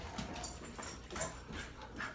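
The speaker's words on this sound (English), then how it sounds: "these dogs are crazy" A dog whimpers in a series of short, high, whiny cries over constant broadband noise. It sounds fairly close, and no one speaks.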